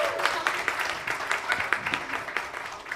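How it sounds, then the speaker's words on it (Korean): Audience at a university history department anniversary talk concert clapping to welcome the student council president, a moderately close, uneven patter of hands that thins out toward the end. "큰 박수로"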